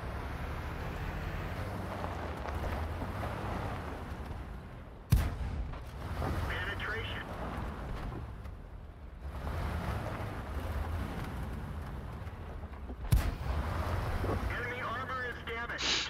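An EBR reconnaissance vehicle's cannon fires twice in a video game, two sharp loud reports spaced several seconds apart over a constant rumbling engine and wind-like noise, with someone talking throughout.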